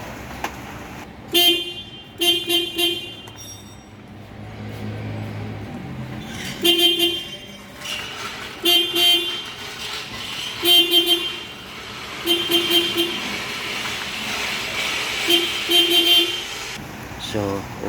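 A Toyota Wigo's horn sounds in repeated short honks and a few longer blasts during clock spring repair, mixed with background noise and bits of talk.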